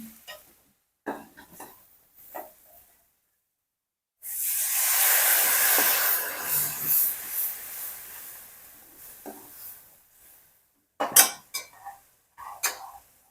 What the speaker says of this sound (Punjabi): ਇੱਧਰ ਵੀ ਆਪਣੇ ਆਲੂ ਤੇ ਹਨ ਪਿਆਜ਼ ਨੇ ਜਿਹੜੇ ਬਸ ਪੱਕ ਗਏ ਨੇ ਥੋੜਾ ਸੇਕ ਆਪਾਂ ਹੋਰ ਲਵਾ ਲੈਨੇ ਆ